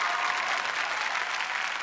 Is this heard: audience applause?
yes